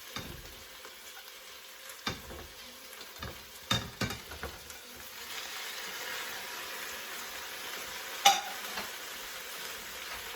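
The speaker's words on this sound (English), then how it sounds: "Just going to give it a quick stir." Sautéed vegetables and cauliflower stirred in a pot: a soft steady sizzle with scattered knocks and scrapes of a utensil against the pot, fairly quiet, plus one sharp clink near the end.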